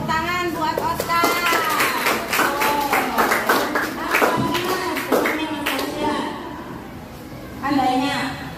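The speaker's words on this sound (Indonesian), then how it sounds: "Tepuk tangan buat Oscar." A school class claps in applause, a burst of rapid overlapping hand claps rising under loud voices, then fading as talk continues, close and fairly loud.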